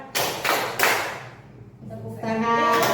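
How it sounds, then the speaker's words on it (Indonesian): A short burst of several hand claps rings out in a school teaching session, loud and close, fading before voices start speaking. "Tepuk tangan."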